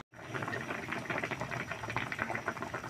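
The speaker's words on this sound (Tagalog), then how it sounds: "kumukulo na yung sabaw." Soft, busy bubbling of fish broth boiling in a pot, a continuous gurgling simmer heard up close and fairly quiet.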